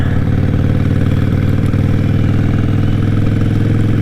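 A Harley-Davidson motorcycle engine runs loud and close with a steady, throbbing low rumble, heard continuously throughout.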